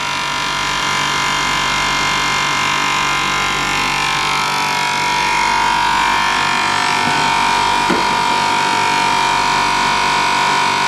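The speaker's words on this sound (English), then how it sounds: "All right, the machines are going." Machines running in a raw chocolate factory, a constant loud hum with steady tonal whine and buzzing, unbroken for the whole stretch with a brief knock near the end.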